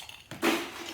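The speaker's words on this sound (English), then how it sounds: "I'm going to prep my glass first of all with ice." Ice dropped into a cocktail glass for a stirred rose Negroni: a brief quiet rattle, then a sharp glassy clink that rings on briefly, close and faint, with no talk.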